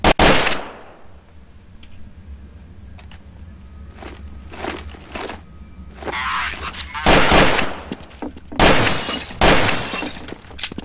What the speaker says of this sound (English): Man, those windows are fun to shoot.